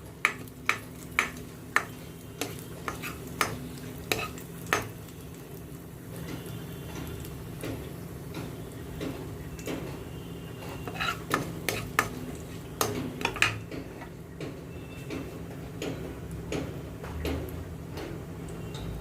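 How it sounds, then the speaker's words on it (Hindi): Cumin seeds crackle in hot ghee in a pan, with sharp, irregular pops over a soft, steady sizzle. The popping is busiest at the start and comes back in bursts later. "और इसमें सबसे पहले मैं डालूँगी आधा चम्मच जीरा, जीरे को तड़कने देंगे।"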